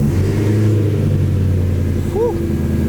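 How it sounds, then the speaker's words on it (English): BMW M3 V8 engine idles with a deep, loud rumble, settling into a steady throb after starting up, heard close and alone. "The initial startup of the V8, that shit just sounds like it's like a supercar."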